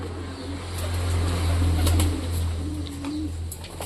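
Low, throaty cooing of pigeons close by, a couple of rolling coos over a constant hum in the background.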